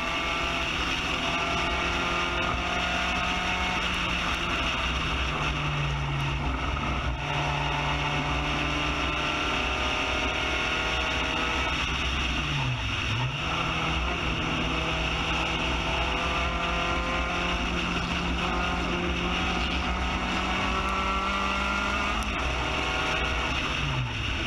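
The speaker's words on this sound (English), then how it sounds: "listen to the motor" Spec Racer Ford GEN3 race car engine on track at Texas World Speedway, a steady loud in-car drone with gear-shift dips and sustained pitch, heavy wind and road roar throughout.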